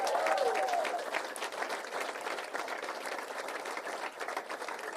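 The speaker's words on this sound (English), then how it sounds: "just take a round of applause" Audience applause at the Massachusetts Affordable Homes Act bill signing, a sustained round of many hands clapping, moderately distant, with a brief voice at the start.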